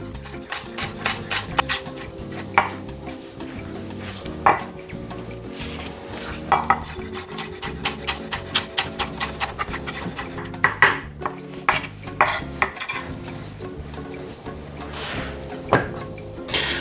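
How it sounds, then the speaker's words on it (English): Onions and shallots are finely sliced and diced on a board, with quick, irregular knife taps and clinks of utensils and dishes running throughout, close and fairly loud, without talk. "we're gonna chop up some onions, some shallots. So, finely sliced, finely diced."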